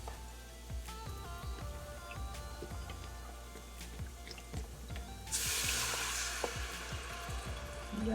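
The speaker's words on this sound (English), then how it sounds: "Love that sizzle sound." Steady sizzling and crackling from food in a hot pot as broth is added for vegan coconut curry pumpkin soup, with scattered pops and a louder hiss of steam bursting up partway through.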